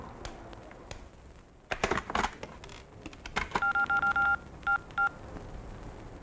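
Telephone keypad tones beep in a quick series of short, evenly spaced bursts as a phone number is dialed, preceded by a few louder clicks and handling knocks, heard fairly close against a quiet room.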